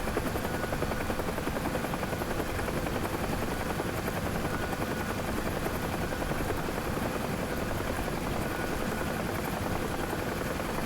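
A UH-1H Huey helicopter in the DCS flight simulator lifts off, its rotor and turbine making a loud, constant, dense roar that holds steady throughout with no talk.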